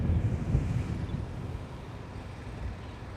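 Gusting wind buffets the microphone on an open golf course, a steady low rumble that swells loudly in the first second and then settles into a softer, continuous roar with no voices.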